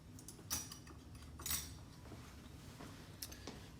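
A metal teaspoon measure is picked up in a home kitchen during roast chicken prep, giving a few faint, bright clinks and jangles at spaced moments over a quiet room hum, with no talking.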